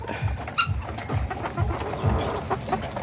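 Chickens cluck and call over steady outdoor background noise, several birds close by in a continuous chatter.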